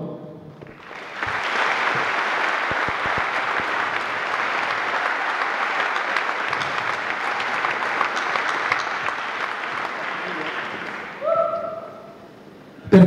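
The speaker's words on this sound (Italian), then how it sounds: "Facciamo un grandissimo applauso" An audience at an event gives a big round of applause for the Venuto brothers: clapping swells in after a quiet start, holds steady and full for about ten seconds, then fades near the end.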